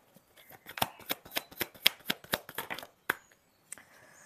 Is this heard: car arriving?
no